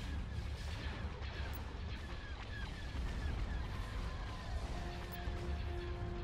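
Star Destroyer weapons firing in the space battle game Thrawn's Revenge, a continuous rumbling barrage of laser blasts and booming impacts at moderate level, with occasional tonal whines and no voices.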